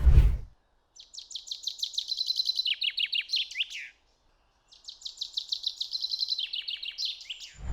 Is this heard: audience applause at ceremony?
no